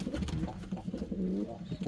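An Indian Fantail cock pigeon coos in low, throaty, rolling pulses, close and fairly soft, repeating steadily over a faint background.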